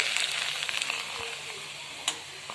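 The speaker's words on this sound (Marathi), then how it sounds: "इथं मी नाचणीचे पापड तळते" Ragi (finger millet) papad frying in hot oil, a close, steady crackling sizzle with small pops and a couple of sharp clicks from a utensil.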